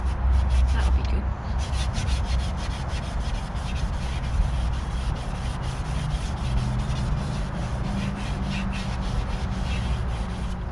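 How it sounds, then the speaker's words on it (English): Scuffing and scratching the edge of a Nissan Micra K10 sunroof opening clean before fitting a new seal: a continuous, close, loud abrasive rubbing like sanding, steady for the whole stretch with no pauses. "We're going to scratch it up to make sure it's nice and clean for the new seal to stick to."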